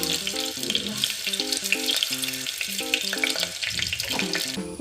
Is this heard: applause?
no